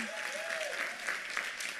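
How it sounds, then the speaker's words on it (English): Steady applause from an audience, a dense wash of clapping lasting the whole stretch, with a faint voice briefly audible underneath. "So we want to give another round of applause."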